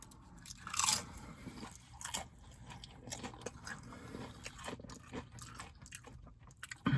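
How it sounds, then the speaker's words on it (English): Crunchy Taco Bell chalupa shell bitten and chewed up close: a sharp crisp crunch near the start, another bite soon after, then repeated moist crackling chews trailing off, with a final crunch at the end. "Nice crispy crunch on the shell there."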